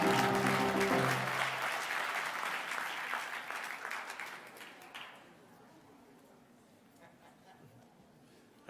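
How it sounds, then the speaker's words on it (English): Audience applause at a college graduation ceremony, dense clapping from a large crowd that gradually thins and fades away, leaving quiet room tone. "let's give him a big round of applause because that cake looks awesome"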